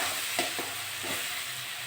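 Spice paste for a tilapia, potato and cauliflower curry stir-fried in oil, giving a low steady sizzle with a few soft scrapes of stirring, close by with no voices.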